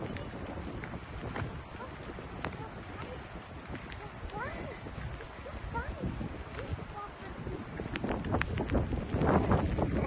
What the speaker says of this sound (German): Oh, der Wind wird stärker.